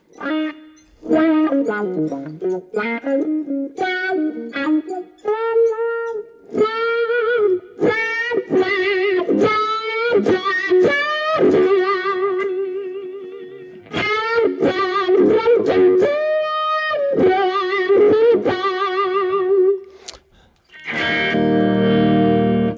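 An electric guitar played through a Dunlop effects pedal picks out clean, sustained melodic notes and phrases with short pauses between them, loud and close, then a brief burst of noisier strumming at the end.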